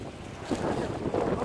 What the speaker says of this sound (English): Because it's quite windy up here.